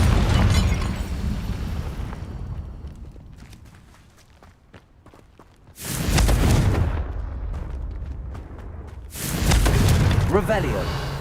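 A fiery blasting spell in the Hogwarts Legacy video game goes off in two loud, booming explosions a few seconds apart, each with a crackling tail, over a steady bed of game ambience and footsteps.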